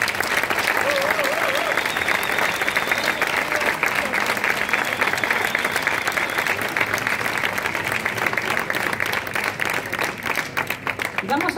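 A crowd applauds steadily and loudly throughout at an outdoor live concert in a town square in Huesca, Spain, dense clapping with some cheering mixed in.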